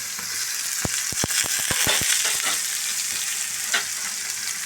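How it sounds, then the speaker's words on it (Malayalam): Chopped onion frying with ginger-garlic paste and fennel seed in a pan for a pork roast, giving a loud constant sizzle with a quick series of sharp spoon or spatula taps against the pan. "നന്നായിട്ട് മിക്സാക്കി നന്നായിട്ട് ഫ്രൈ ആക്കണം"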